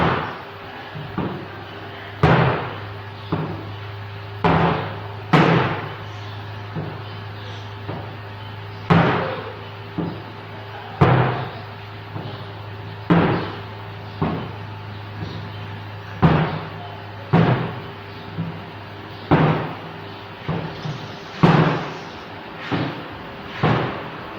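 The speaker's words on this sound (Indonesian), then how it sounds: "sekarang teacher mau buat ketukan di papan tulis" Sharp knocks struck on a classroom whiteboard ring out in a regular beat pattern, each hit crisp and close with a short decay, repeating steadily over a low background hum in a primary school lesson.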